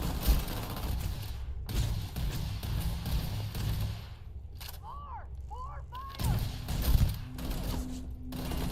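A gunshot in the game Starfield, one loud blast among sharp bursts of weapon fire and thuds over a steady game soundscape, with a few swooping electronic tones and a low hum coming in later.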